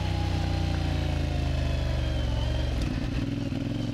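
A CF Moto MT450 off-road motorcycle drones loud and close with a steady engine note, then the pitch drops and shifts near the end as the rider eases off, with some clattering.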